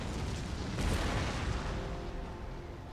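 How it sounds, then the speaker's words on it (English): Counter-battery cannon fire in the strategy game Empire Total War: a muffled, distant boom that swells and then fades into a low rumble, quiet and without talk. "Oh god, counter battery fire."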